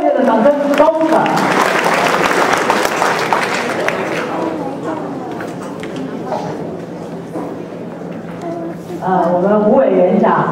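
Warm audience applause at a Dragon Boat Festival community celebration, loud clapping and crowd noise under a speaker's voice, fading as talk takes over and swelling slightly again at the close.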